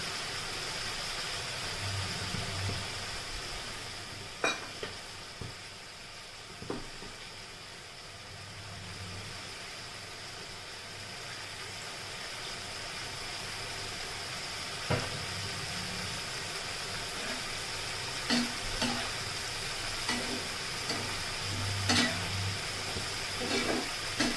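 Okra curry sizzles steadily in a pan as mustard paste is stirred in, with occasional clinks and scrapes of a utensil over the continuous frying hiss.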